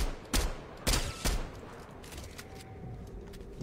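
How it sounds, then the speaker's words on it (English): Cannon fire in a video game set out among islands: three loud, sharp booming blasts in the first 1.5 seconds, then a quieter stretch of game ambience. "they got that stupid cannon over there"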